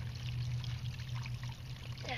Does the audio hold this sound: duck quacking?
no